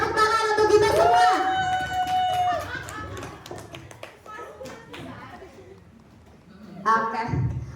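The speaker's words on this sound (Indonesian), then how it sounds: "tepuk tangan untuk kita semua" A room of teachers at a positive-culture school workshop breaks into brief clapping mixed with overlapping voices and chatter, a lively group sound that fades and then picks up again with talk.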